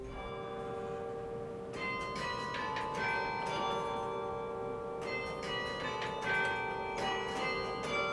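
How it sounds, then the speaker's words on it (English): Carillon tower bells at the University of Texas, played by hand from a keyboard, ringing in overlapping peals with a sustained resonant wash, heard from some distance. "This instrument here is called the carillon"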